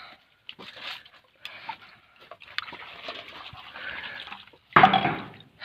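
Water poured from a container into the soil around a young plant in a field, with scattered soft trickles and splashes, then a louder, fuller gush of pouring near the end.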